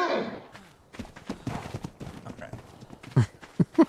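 Horse hooves clip-clopping in the survival game Ark Survival Evolved, a few soft irregular steps and then three sharper, louder hoofbeats near the end, with a voice talking through the first part.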